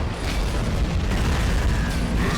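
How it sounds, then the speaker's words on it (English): A bunker blowing up and catching fire in the toy-soldier war game Army Men of War, a loud continuous boom and rumble that stays dense and heavy throughout with no voices. "Oh, we blew the bunker up, set it on fire."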